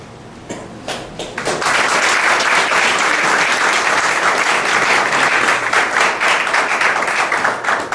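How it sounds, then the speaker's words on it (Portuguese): A large audience breaks into loud, sustained applause after a theology lecture at a university event, starting with a few scattered claps and quickly swelling into dense, steady clapping that carries on without a break. "E mais uma vez eu peço uma salva de palmas para ele."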